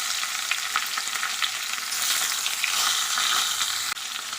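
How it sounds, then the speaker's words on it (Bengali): Chopped onions dropped into hot oil with fried fish heads sizzle and crackle steadily, a bright close hiss with a brief stir or clatter near the end. "এখন ওরই মধ্যে দিয়ে দিচ্ছি পেঁয়াজ কুচি।"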